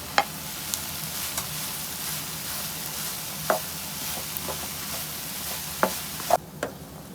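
Shredded cabbage and green chillies being stirred in a pan, a soft low frying hiss under occasional sharp clicks and scrapes of the spoon against the pan, with no one talking.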